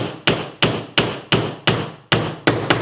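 Hammer gently tapping metal fixings into a damaged door liner being repaired, eight sharp, evenly spaced taps close by, each ringing briefly before the next, with no talk.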